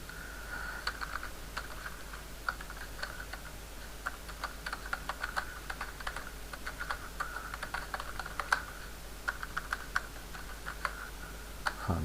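Computer keyboard being typed on while entering a function name, rapid irregular bursts of light key clicks and taps at close range, quiet and without talk.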